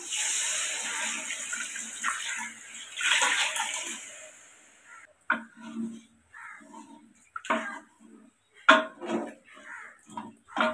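Measured water pours noisily into a pot for rice kuska for a few seconds, followed by scattered clinks and scraping of cookware, close by.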